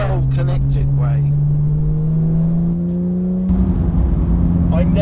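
Porsche 991.2 GT3 and 992 GT3 engine droning steadily while driving, a rising tone building over several seconds before a louder step up in revs, with a voice talking over the start.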